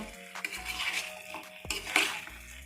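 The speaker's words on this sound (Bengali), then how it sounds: "এবার মশলার সাহায্যে আলুগুলো ভালোভাবে মেখে নেব।" Potatoes stirred and mixed with spices in a pan for Kashmiri aloo dum, heard as close, irregular scraping and clinking of a utensil against the pan with faint sizzling, no talking.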